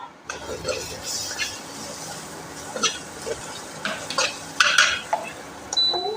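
Okra stir-fries in a pan with masala, chili powder and turmeric, a low background sizzle broken by sharp spatula scrapes and clinks against the pan at irregular intervals, close by, with a voice speaking at moments.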